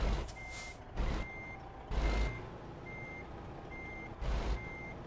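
Truck reversing alarm in American Truck Simulator, a steady series of loud evenly spaced beeps with a low engine rumble and brief hissing bursts between them.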